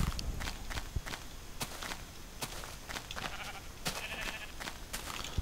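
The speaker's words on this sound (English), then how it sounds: "More sheep." Sheep in the video game Minecraft, amid steady crunching footsteps over blocky terrain, with faint bleats mixed into a quiet, rhythmic stream of in-game walking sounds.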